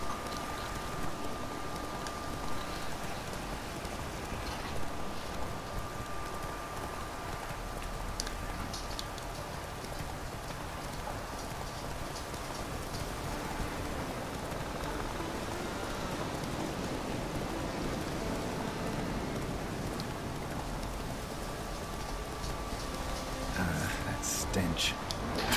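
Rain falls in Skellige in the video game The Witcher 3: Wild Hunt, a steady, even hiss of downpour that lasts throughout, with a thin tonal hum underneath and a few brief clicks near the end.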